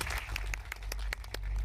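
A crowd at a Gujarati movie release event claps in scattered, sharp bursts, heard fairly faintly and at a distance.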